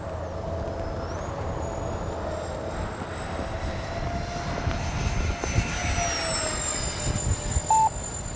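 A FreeWing 64mm A-10 RC jet with electric ducted fans flies at a distance outdoors, its thin whine holding steady and then rising in pitch as throttle increases, over low wind rumble.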